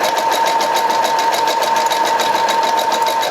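Sewing machine running steadily in a continuous zigzag stitch along a headband wig, a close, even mechanical whir with a fast regular needle rhythm and no talking.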